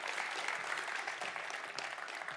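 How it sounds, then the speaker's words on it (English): An audience at an industry conference applauds steadily for a break, a dense wash of clapping hands heard from a moderate distance throughout, with no voices over it. "a big applause to Akhilesh"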